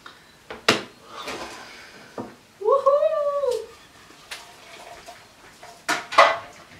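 A sausage-filled bread loaf is unmolded from a baking pan in a home kitchen, giving a few sharp metallic clanks and knocks up close, with a short tonal vocal sound in between.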